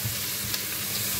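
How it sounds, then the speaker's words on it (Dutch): Onions fry in hot oil, giving a steady, close, dense sizzle with a faint crackle throughout and no talking. "Dus uitjes in de olie bakken."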